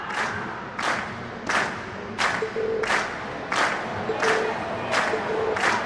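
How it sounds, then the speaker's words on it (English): A crowd cheers and claps after a concert performance by Class 7 in the Trails of Cold Steel game. Bursts of applause and cheering recur about every 0.7 seconds in loud, repeating loops, and short tonal game effects sound in between. "we've heard your cheers loud and clear"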